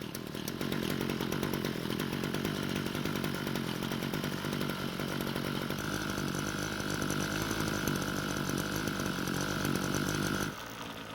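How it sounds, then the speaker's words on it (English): A Ryobi gas string trimmer engine, air filter cover removed, runs loud and steady with a buzzing chainsaw-like drone, its pitch shifting midway, then cuts out abruptly near the end, leaving a quieter tail. "the moment I touched the trigger, the engine stopped"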